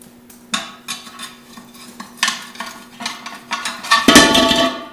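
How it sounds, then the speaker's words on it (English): Flat tire spoon levered around a wheel rim to pry off a tire, a series of sharp metallic clanks and scrapes at irregular intervals, ending in a louder grinding scrape. "Then you just take that flat spoon and work it around the rim."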